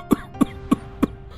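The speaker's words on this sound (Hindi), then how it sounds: "अचानक उन्हें खांसी आने लगती है।" A man coughs after tasting spicy food, four short, sharp, evenly spaced coughs close to the listener, with no talk around them.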